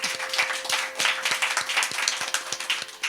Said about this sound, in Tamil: நல்லாவே கரகோஷம் கொடுக்கலாம்.